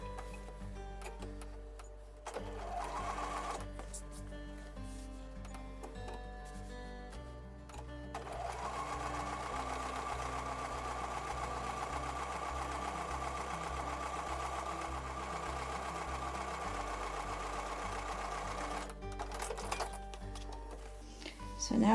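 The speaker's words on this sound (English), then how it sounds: "sew down on the other side of the drawn line" A sewing machine stitches a quilt block for a honeymoon block pattern along a drawn line. It runs in long, steady rhythmic passes with a brief stop near the start, close and clear.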